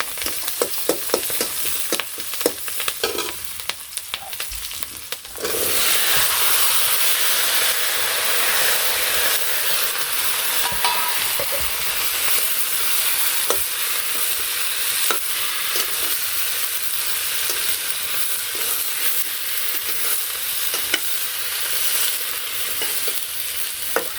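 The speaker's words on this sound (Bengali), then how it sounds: "ফোড়নটা কালো হয়ে গেছে এর মধ্যে দিয়ে দিলাম এখন কাঁচামরিচ আর মাছের ডাল একটু ভাজা ভাজা করে সবজি দিয়ে দেবো" Green chilies and fish pieces fry in hot spiced oil with blackened tempering, a loud close sizzle that surges and keeps hissing steadily, broken by scraping stirs.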